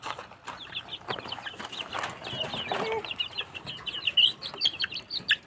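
Pet chickens being fed leftover cooked rice keep up a busy mix of close clucks and high chirps, with some rustling and flapping around them.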